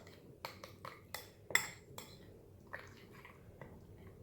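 A utensil scraping and clinking in a bowl while a garlic and oregano mixture for garlic bread is stirred, with several faint, irregular taps and clinks in a quiet room.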